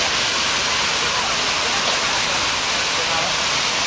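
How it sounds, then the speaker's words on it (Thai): Water pouring from a fountain and waterfall at a tourist site in Malaysia, a steady broadband rush with no breaks, close and fairly loud throughout. "โอ้โหน้ำพุสีสวยจังนักท่องเที่ยวก็เยอะมากเลยอ่ะนี่ไงตรงนี้ไงที่บอกว่าน้ำตก"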